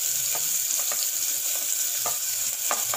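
Chopped onion sizzles steadily in hot oil in a pan as it sautés for a mushroom gravy, a dense continuous frying hiss broken by light scraping stir clicks.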